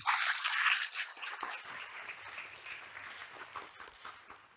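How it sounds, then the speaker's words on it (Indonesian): An audience at an energy-transition leadership talk applauds, a fairly loud wash of clapping at the start that gradually thins and fades over several seconds. "Mungkin tepuk tangannya untuk Budi"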